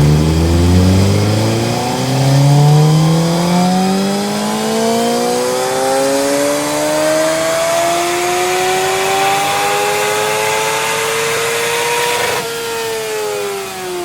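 A Suzuki GSX-R750 sport bike engine revs up steadily through a road-legal Yoshimura exhaust can packed with wadding, pitch climbing smoothly over many seconds with a loud, close, continuous tone before easing off near the end.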